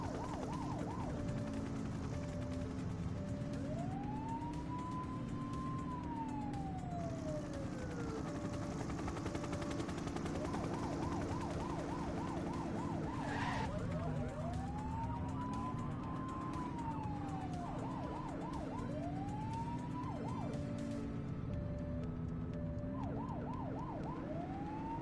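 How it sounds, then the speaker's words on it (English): A police siren in a video game wails, sweeping up and down, alternating with rapid yelping bursts, over a constant low engine hum; the sound is steady and moderately loud. "It's a priority call, so this is a proper siren."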